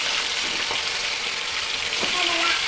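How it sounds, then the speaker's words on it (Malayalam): Chicken pieces frying in hot oil for a home-style Kerala fried chicken give a steady, close, continuous sizzling hiss throughout, with faint background voices. "കോഴിനെ എണ്ണയിലിട്ടിട്ടുണ്ട്"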